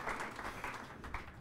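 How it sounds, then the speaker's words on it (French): An audience at a digital tourism conference applauds to welcome a speaker, a soft, steady wash of hand clapping heard from some distance, fairly quiet throughout. "je vous prie de bien l'applaudir."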